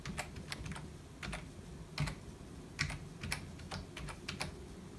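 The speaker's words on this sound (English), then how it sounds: "I'll type in my password" Keys tapped on a Raspberry Pi 3 computer keyboard while a password is typed, giving irregular close clicks in short bursts with brief pauses over a low steady room hum.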